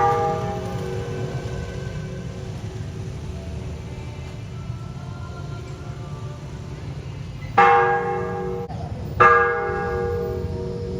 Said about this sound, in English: what we do know is the church bell. It's about 940 years old and has a really unique sound to it.